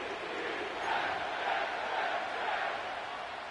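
A stadium crowd at MetLife Stadium in an EA Sports football video game gives a steady, dense roar of cheering that swells gently and holds throughout, with no clear voices standing out.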